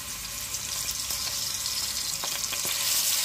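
Onions frying in hot oil in a pan while preparing a fish curry with bottle gourd, a steady close sizzle with a few sharper crackles and clinks of stirring.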